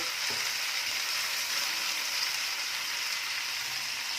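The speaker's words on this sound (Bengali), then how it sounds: "একটু নুন দিয়ে দিলাম, দিয়ে এবার পেঁয়াজগুলোকে খুব ভালো করে একদম নরম করে নেব।" Chopped onions with a pinch of salt sizzle and fry steadily in a pan, a dense, even crackle that holds at a constant level throughout with no voices.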